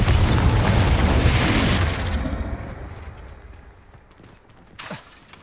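Confringo explosion spell cast in the Hogwarts Legacy video game: a loud booming blast that rumbles and slowly decays over several seconds, followed by a smaller pop near the end, no talking.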